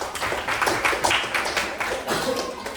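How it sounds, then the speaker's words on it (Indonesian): Children clap their hands in a classroom, a dense run of quick overlapping claps close by at steady loudness, with a voice murmuring faintly underneath. "tepuk tangan dulu buat kakak"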